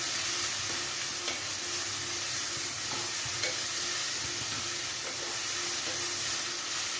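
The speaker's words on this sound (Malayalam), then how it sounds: "വഴറ്റാം." Onions with a little salt sautéing in a pan for a Kerala roasted-coconut chicken curry, a steady close sizzle and hiss with faint scraping stirs scattered through.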